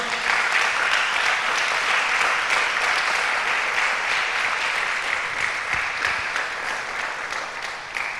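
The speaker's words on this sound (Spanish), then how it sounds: "Dele un aplauso al Señor." Church congregation applauding, dense sustained clapping from many hands that fills the room and fades slightly toward the end.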